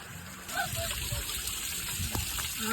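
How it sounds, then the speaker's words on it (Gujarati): Natural water flows down Girnar mountain during the monsoon, making a steady, close rushing gush that holds at an even level throughout. "કુદરતી પાણી તમે જોઈ શકો છો"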